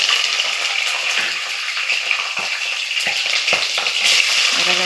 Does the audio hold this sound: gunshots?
no